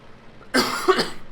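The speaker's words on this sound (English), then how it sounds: "just coughing away from the microphone there" A single close cough, a short harsh burst followed by a second smaller hack, with quiet room tone before it.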